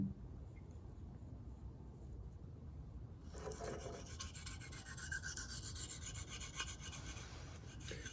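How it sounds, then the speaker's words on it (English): A kitchen knife drawn slowly under light pressure across a coarse 150 grit whetstone, soft rhythmic rasping strokes that grow louder partway through, close and alone. "The 150 grit, you want slow movements, and you want to check frequently."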